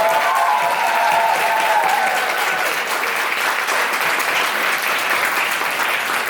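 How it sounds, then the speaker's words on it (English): A large crowd of graduating students at a high school commencement applauds their parents in a steady, dense wash of clapping that holds evenly throughout, with a voice briefly audible at the start. "Students, please give your parents a round of applause."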